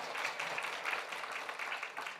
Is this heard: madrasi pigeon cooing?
no